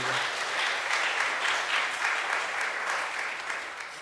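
Church congregation claps in welcome for a visitor, a full, steady round of applause from many hands that holds for several seconds before tapering slightly.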